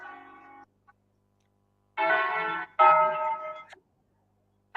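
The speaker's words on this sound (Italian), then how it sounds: "Lo so che c'hai le campane dietro, quindi è inevitabile." Church bells ring behind a participant on a phone or video call, heard as a few bright, tonal clangs that come in separate bursts with silent gaps between them, thin and somewhat compressed as if picked up through a call line.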